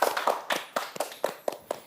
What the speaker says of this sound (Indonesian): Tepuk tangannya dulu dong, Harmonistik